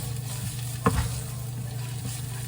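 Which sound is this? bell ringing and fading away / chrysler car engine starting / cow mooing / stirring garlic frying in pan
stirring garlic frying in pan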